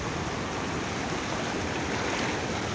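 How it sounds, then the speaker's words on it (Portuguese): Floodwater pours over a submerged causeway at Tabuleiro do Norte in Ceará, Brazil. It makes a continuous, loud, broadband rush of flowing water with no pauses or voices. "É, muita água aqui passando aqui, ó."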